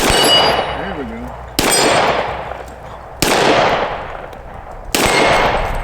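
Four pistol shots from a Smith & Wesson M&P Compact ring out at evenly spaced intervals outdoors, each followed by a ringing metallic clang from a steel target and a decaying echo.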